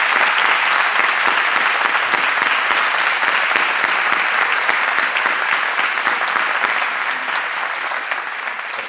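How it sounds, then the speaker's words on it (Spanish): Sustained applause from a concert audience at a Holocaust victims' memorial concert, dense and steady clapping from a large crowd throughout, easing slightly toward the end. "un aplauso."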